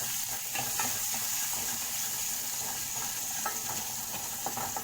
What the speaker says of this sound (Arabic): هحط شويه زيت وهنزل عليها بحته تومه